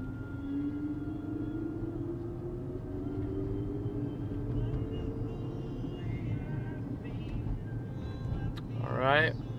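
A 2012 Toyota RAV4 4x4 with 73K miles pulls away and drives, its steady low engine and road rumble running throughout with a rising engine tone, under occasional talk and a brief squeak near the end.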